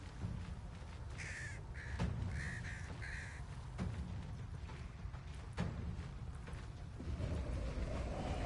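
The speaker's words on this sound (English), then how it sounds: "She summoned a murder of crows." Crows summoned in Baldur's Gate 3 caw repeatedly in short bursts over a steady game ambience, with a few sharp hits mixed in.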